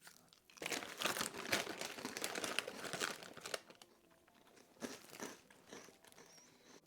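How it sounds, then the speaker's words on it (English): Asian shrimp crackers crinkle in their packet and crunch loudly and repeatedly between the teeth up close, in dense bursts of crisp chewing with a short pause before a final flurry. "All right, time for the shrimp crackers."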